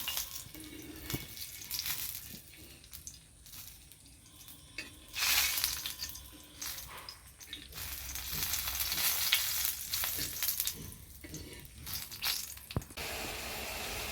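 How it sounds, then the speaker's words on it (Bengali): Rohu fish pieces fry in hot oil with a soft, crackling sizzle that swells and fades, broken by occasional clinks and scrapes of a utensil and no talk. "এটা লাল করে ভাজা হয়েছে, তুলে নেব। এরকমভাবে আমি সবগুলো ভেজে নেব।"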